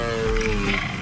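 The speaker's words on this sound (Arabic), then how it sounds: "إنه نمر" A tiger gives a loud, close, rough roar lasting about a second, with no other sounds around it.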